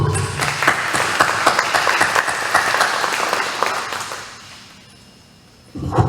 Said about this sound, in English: Let's just stop and give them a round of applause for everything they've